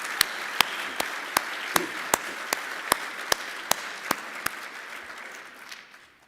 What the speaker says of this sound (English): Let's show our gratitude for their leadership with a round of applause.